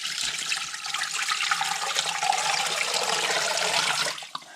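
Water pours steadily into a canning pot holding bones and cider vinegar, a continuous splashing rush from start to finish that stops abruptly near the end, close and fairly loud with no talk.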